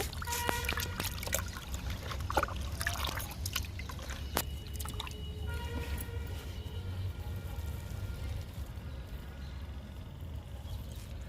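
Water sloshing and trickling as cow dung is stirred into it in a bucket, a steady wet churning with occasional splashes, close by and continuous.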